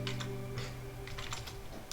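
Keys on a computer keyboard clack in a quick, uneven burst as a configuration command is typed, soft and close over a low steady hum.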